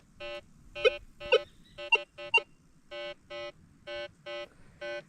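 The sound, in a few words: metal detector low tone over buried barbed wire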